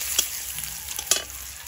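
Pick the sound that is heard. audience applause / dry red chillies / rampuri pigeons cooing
dry red chillies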